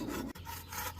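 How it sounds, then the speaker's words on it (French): A hand saw rasps steadily through a piece of wood, cutting down from small notches to about halfway through the stock, close and continuous with a brief break in the stroke. "On scie ensuite à l'emplacement de nos entailles jusqu'à la moitié du bois."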